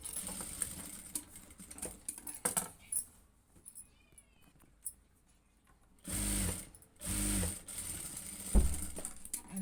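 A sewing machine stitches a blouse in short bursts, with two loud sustained runs of whirring motor and needle clatter separated by quieter handling noises and small clicks.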